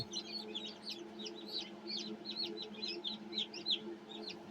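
A crowd of chicks newly hatched after 21 days of incubation peeping in high, rapid chirps, continuous and close, over a low steady hum.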